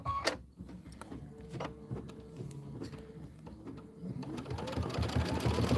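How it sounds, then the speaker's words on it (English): An embroidery sewing machine stitches placement lines for a quilted home project, its motor buzzing and whirring steadily and growing louder toward the end, close by with no talking. "And now we're going to do placement stitches for the windows."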